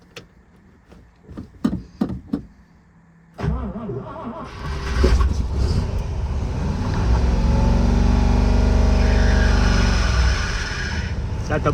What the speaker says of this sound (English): now we're gonna fire the car up and see if this carburetor's gonna be spewing